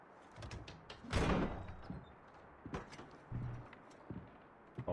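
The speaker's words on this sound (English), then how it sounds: "Oh, secret door." A hidden door grinding and thudding open in Assassin's Creed Rogue, a quiet scraping rumble with a heavier thunk early on, followed by a few faint knocks and clicks.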